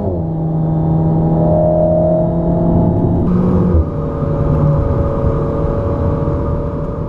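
A 2019 Alpine A110 sports car engine drones steadily as it accelerates, with tone changes and a brief dip partway through marking an automatic upshift, heard from inside the cabin with no talk.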